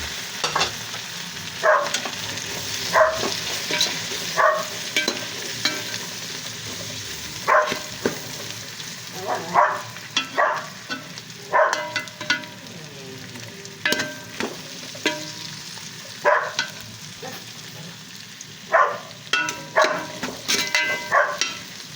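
Pancit canton stir-frying in a pan as extra ingredients are added, a steady close sizzle broken by repeated scraping clanks of a utensil tossing the noodles at an uneven rhythm, with no talking.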